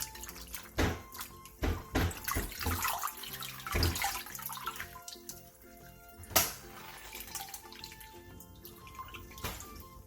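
Cold water splashes and drips as blanched bok choy is rinsed, with irregular bursts of running water and clattering near a sink, then quieter trickles and a few sharp knocks.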